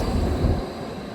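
A subway train in Erfurt gives a brief, loud, low rumble, heavy at first and then easing into a steadier roar.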